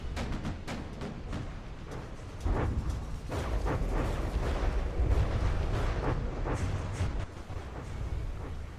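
Relentless bombardment pounding the Voyager in a video game space battle, a dense stream of booming blasts and rapid impacts layered into a loud, unbroken barrage with no speech.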